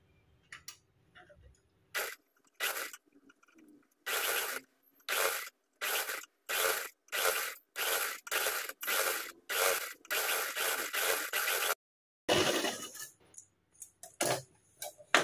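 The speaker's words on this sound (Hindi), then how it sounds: "अब हम यहाँ पर धार स्टिच लगाएंगे" Sewing machine running in short repeated bursts while stitching a seam on a lehenga umbrella belt, each run of stitching separated by brief pauses, close and fairly clear with no talk.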